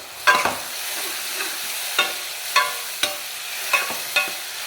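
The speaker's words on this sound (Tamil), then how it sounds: "இஞ்சி பூண்டு விழுது போட்டதுமே தக்காளியை போட்டுங்க." Chopped tomatoes with ginger garlic paste sizzle in a hot pan for plain parotta salna, with a steady frying hiss broken by regular scraping stirs of a spoon every half second or so.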